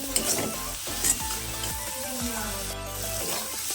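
Spicy egg curry topped with chopped coriander is stirred in a pan: a continuous sizzle with scraping stirs, and faint tonal music plays behind it.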